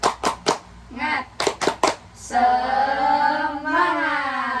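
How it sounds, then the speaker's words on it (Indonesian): A small counseling group claps in a rhythmic encouragement pattern, sharp hand claps in short bursts, then joins in a sustained chanted shout, close and fairly clear. "tepuk semangat, semangat"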